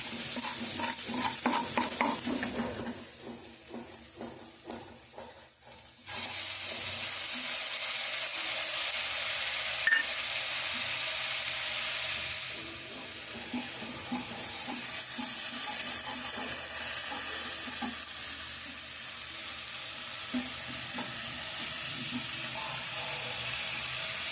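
Masala frying with browned onions in a pan for a raw cashew and drumstick curry: an uneven clatter of stirring at first, then a broad, loud sizzle that holds steady with occasional scrapes, no talking.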